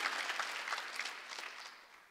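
A church congregation at a Korean New Year's Eve service applauding, a dense patter of many hands heard faint and somewhat distant, slowly tapering off near the end.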